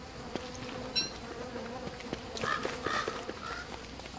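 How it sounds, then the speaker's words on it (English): Bees buzz in the survival game Don't Starve, a close, continuous drone with a few louder flybys, over faint game sounds and soft footsteps. "I don't like bees."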